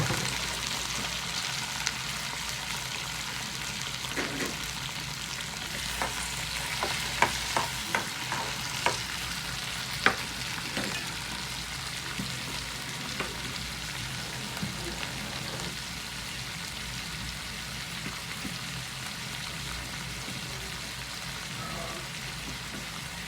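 Green chillies and cucumber pieces frying with cumin seeds in a pan give a steady sizzle, with a run of sharp pops and crackles as the ingredients go in and are stirred.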